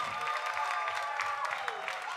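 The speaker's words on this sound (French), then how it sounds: "sous vos applaudissements, s'il vous plaît" Audience applause at a Kompa dance challenge presentation, a steady wash of many hands clapping throughout with faint tonal sound underneath.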